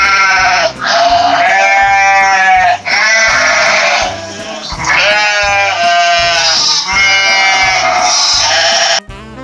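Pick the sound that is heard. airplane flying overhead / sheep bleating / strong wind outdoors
sheep bleating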